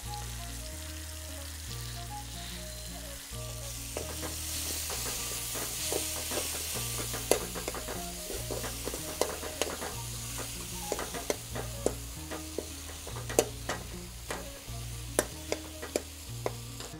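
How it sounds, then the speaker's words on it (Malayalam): Crushed garlic, skins still on, frying and sizzling in a pan for Kerala-style rasam, a steady hiss broken by repeated sharp clicks and scrapes of stirring, close and continuous, with background music and no voices. "നമുക്ക് ആ തൊണ്ടോടുകൂടി ചതച്ച വെളുത്തുള്ളി അതിലേക്ക് ചേർക്കാം"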